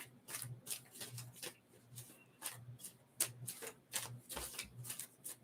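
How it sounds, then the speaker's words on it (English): Tarot cards shuffled by hand, a run of quick, crisp riffling bursts that repeat in an uneven rhythm, close and fairly quiet with no talking. "Give it a good shuffle."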